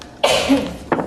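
A single sharp sneeze, close by, followed by a short breathy exhale or sniff a moment later, during a school board meeting.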